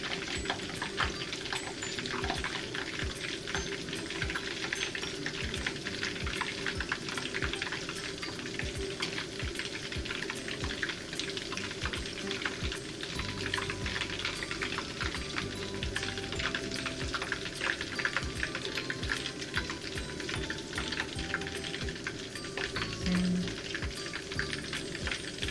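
Meatballs for sweet and sour pork fry in a frying pan with a steady, dense crackle and sizzle of oil, close and continuous for the whole stretch, with faint scattered pops.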